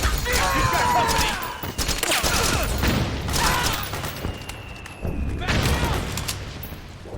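Metal Gear Solid 4 video game gunfire, dense sustained bursts of automatic weapon fire mixed with mechanical clatter, with soldiers shouting over the shooting.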